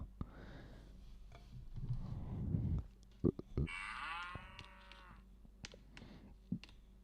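Cows moo in a Roblox video game, a few drawn-out lowing calls with clicks and brief sounds around them, near and fairly loud.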